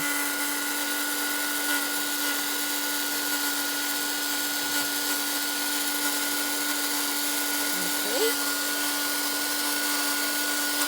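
A handheld dryer blows over an acrylic-painted art journal page, giving a steady even whir that holds at a constant moderate level for the whole stretch, with no talking.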